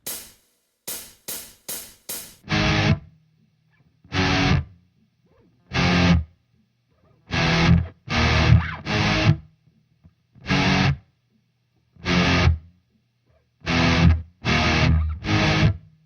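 Heavily distorted, double-tracked electric guitar through MXR pedals hits short chugging chords in bursts separated by silences, after a few quick muted clicks at the start.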